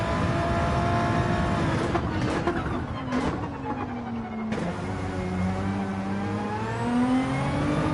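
A race car in a racing video game accelerates hard out of a corner, its engine whining upward through rising revs with a gear change midway, loud and continuous with no talk.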